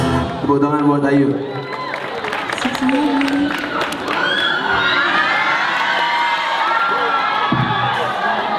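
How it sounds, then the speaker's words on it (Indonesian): An audience at a live singing performance cheers, shouts and whoops, a loud sustained crowd roar mixed with scattered clapping and voices that lasts throughout. "tepuk tangan buat Ayu."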